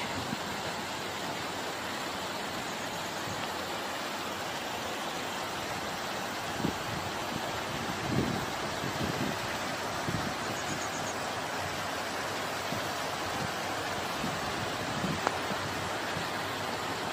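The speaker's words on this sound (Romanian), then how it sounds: "Cascada este spectaculoasă, chiar dacă nu are un debit ca și Vălul Miresei sau alte cascade din România" Pișoaia waterfall in Vidra, Alba County, Romania, a steady broadband rush of falling water. It is loud and continuous, with a few faint knocks and splashes, and no voices.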